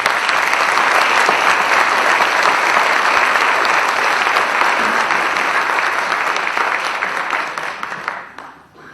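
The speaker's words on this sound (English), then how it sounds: "Please join me again in a round of applause for these wonderful veterans." A Veterans Day audience gives veterans a loud, dense round of applause, steady for most of its length before fading out near the end.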